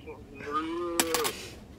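A voice imitates a cow mooing, giving a short, close, drawn-out moo with a falling, wavering pitch, followed by a few brief clicks or taps.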